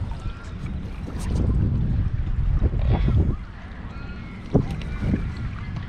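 A water bike rides on the Swan River in Perth, with steady splashing and churning water close by and gusts of wind noise across the microphone.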